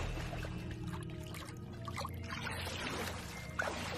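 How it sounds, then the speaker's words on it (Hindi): A thin stream of water trickles from a canal dig, a soft steady pouring and dribbling sound that stays faint and continuous. "नहर की खुदाई वाली जगह से पानी की हल्की धार निकल आई।"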